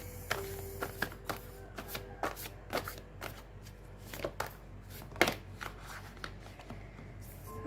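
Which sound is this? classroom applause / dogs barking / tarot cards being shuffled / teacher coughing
tarot cards being shuffled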